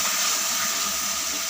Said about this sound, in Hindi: पानी थोड़ा सा और ऐड करेंगे